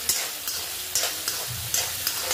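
Green peas being sautéed in oil in a pan for hara bhara kabab, with a soft continuous sizzle and repeated scraping stirs of a spatula at an irregular rhythm, close and clear.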